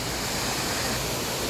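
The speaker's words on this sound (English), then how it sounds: "Waterfall number 3." A waterfall in the Australian bush, a dense, steady roar of falling water that fills the short clip with no voices.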